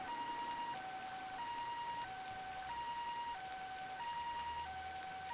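Ambulance siren in a video game, a steady two-tone wail alternating high and low notes at a regular pace, loud and continuous over low background rumble, with no talking.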